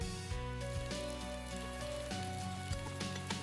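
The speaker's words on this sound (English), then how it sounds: "The storm may have passed, but its memory lingers in the falling rain." Rain falling steadily on a storm-soaked rural house and yard, a dense continuous patter over a musical background, with no voices.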